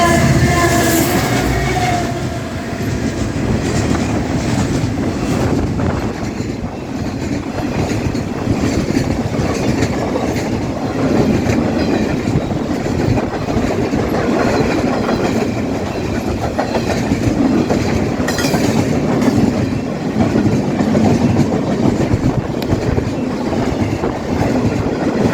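An Australian ACe train passes close and loud, with continuous rumbling rail noise and clickety-clack over the whole stretch and a brief horn-like tone near the start.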